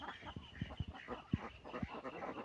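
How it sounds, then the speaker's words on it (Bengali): Ducks kept inside their shed in the morning, near where they lay eggs, give short, scattered quacks and low calls, fairly faint and irregular, with no talk. "এই যে হাঁস এখনও ঘরের মধ্যেই আছে।"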